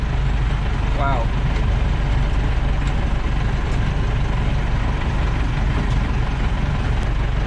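A Mahindra Maxi Cab school van, a vehicle over 50 years old in design, runs with a steady low engine rumble that fills the whole clip. It sounds close and continuous with no speech.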